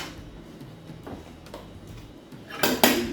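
Sterilised glass canning jars knock together in a saucepan, with a few light scattered taps followed by a louder, close clinking clatter near the end.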